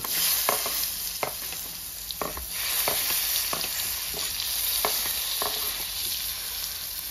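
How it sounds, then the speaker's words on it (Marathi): Onions sizzle steadily in hot oil with mustard seeds and cumin, broken by scattered sharp pops and stirring scrapes, close and fairly quiet. "राई, जिरा आणि आता कांदे तेलात."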